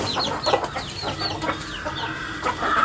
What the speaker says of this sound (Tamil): இது ஒரு கொண்டைக்கோழி.